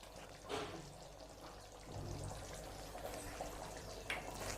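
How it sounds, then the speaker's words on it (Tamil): Fresh cream is poured from a cup into a simmering vegetable korma with paneer and apple, a soft, faint liquid pour and gentle bubbling heard close up without talking. "அடுத்ததாக ஒரு கப்பில் வந்து ஃப்ரெஷ் க்ரீம் ஆட் பண்ணுறேன்."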